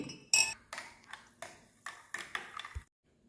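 A spoon stirs lemon sharbat in a glass, with about eight quick close clinks in an uneven rhythm, then silence.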